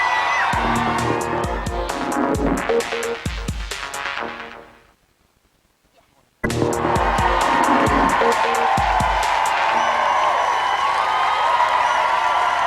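Studio audience cheering and whooping at the Big Brother 2002 UK live final, loud and dense over a pounding musical beat; the noise drops out briefly midway, then surges back at full strength.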